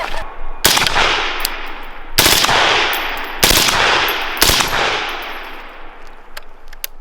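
Four sharp suppressed rifle gunshots, 55 grain 5.56 rounds through a Huxwrx Ventum suppressor, ring out at irregular intervals, each trailing into a long echoing decay, with faint metallic pings between them.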